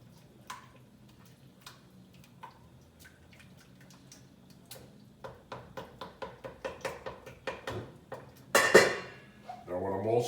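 A spoon clinks and scrapes against a pot while tomato paste is mixed into a lamb ragu, scattered ticks growing into a quicker rhythm of clatters that ends in a louder knock, quiet and close.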